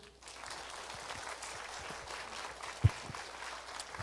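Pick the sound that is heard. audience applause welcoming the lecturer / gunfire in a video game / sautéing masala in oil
audience applause welcoming the lecturer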